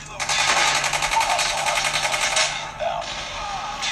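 Rapid automatic gunfire and bursts from a mobile shooter game like Call of Duty or PUBG, loud and continuous for over two seconds, then a brief pause and another burst, with a Thai-speaking player talking over it.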